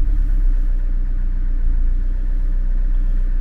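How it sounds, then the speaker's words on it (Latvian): A Mercedes C200 CDI diesel engine idling in a steady, dense low rumble with a constant knocking texture, loud and close, with no voices over it. "darbinam motoru"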